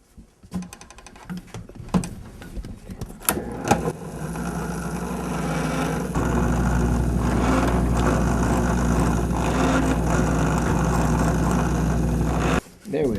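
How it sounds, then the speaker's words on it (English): A drill press bores five small holes through a knife sheath clamped against a scrap of wood; a loud, steady motor drone takes over after a few seconds of handling clatter and runs unbroken before cutting off near the end. "We just drilled 5 little holes in there."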